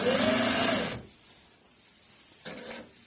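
A JUKI 8300N industrial sewing machine with a Bruce 513C servo motor runs in a steady, loud whir for about a second. It stops to near quiet, then a brief second burst of stitching follows, with no talk.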